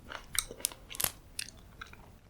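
Someone chews crunchy, juicy fresh fruit up close, a run of crisp bites and wet crunches at an irregular rhythm, with no speech over it.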